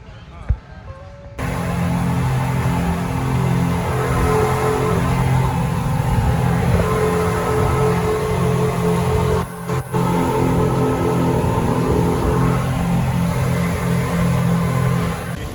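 Big V8 engines rumble and rev steadily nearby for most of the stretch, a continuous loud low drone with a brief dip near the end, heard outdoors in Thailand.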